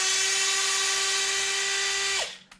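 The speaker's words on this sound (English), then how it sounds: "I need to take out the screws" A power drill on a Traxxas XRT RC truck whines steadily at high speed while backing out screws, then spins down and stops near the end, loud and close with no talk.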